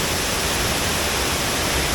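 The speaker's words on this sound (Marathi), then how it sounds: "खूप सुंदर असा धबधबा आहे हा राजापूरपासून जवळजवळ दोन किलोमीटर अंतरावर हा धबधबा आहे" A waterfall near Rajapur roars as a steady, dense wash of falling water that stays constant and fairly loud from start to end, with no voices over it.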